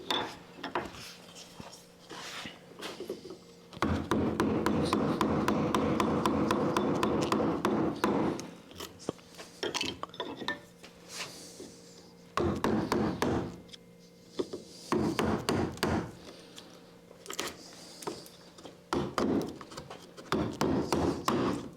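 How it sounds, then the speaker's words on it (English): A woodcarving tool cutting down into MDF in a high relief carving, heard as a long grinding, whirring stretch followed by bursts of scraping and tapping, with pauses between. "So I'm cutting right down into the MDF."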